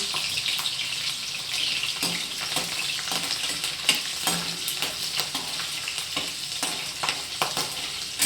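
Mustard seeds and green chili fry in hot oil, a loud close sizzle with frequent sharp pops and crackles scattered across it, and no voices.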